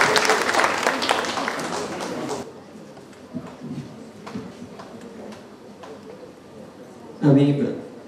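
Audience applause at the opening ceremony of a theatre group's 26th anniversary festival, a burst of clapping that fades after a couple of seconds, followed by scattered claps and a speaking voice.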